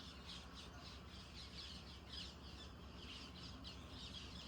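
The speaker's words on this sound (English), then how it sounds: "all the green parrots are going back home for the night" Flocks of green parrots heading home for the night, repeated shrill squawks in an irregular series, distant and very faint over a steady background hiss.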